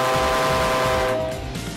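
A train horn in Fort Worth sounds alone as one loud, sustained chord-like blast that holds steady and then fades slightly toward the end.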